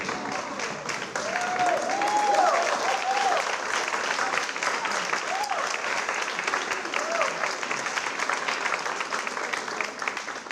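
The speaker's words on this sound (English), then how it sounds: "why don't we give Jesus a standing ovation?" A gospel concert audience gives a standing ovation, a loud, dense wash of clapping and crowd noise sustained throughout, with a few voices calling out over it.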